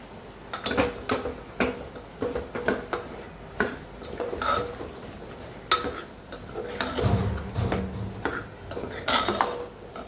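Kashmiri chilli masala being stirred in a pan with a spoon, with repeated clinks and scrapes against the metal at an irregular rhythm, close and fairly loud, and no talk.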